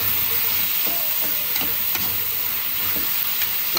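Meat and onions are stirred in a hot pan while cooking a banana blossom coconut dish, giving a steady close sizzle with scraping stir strokes every half second or so, no voices.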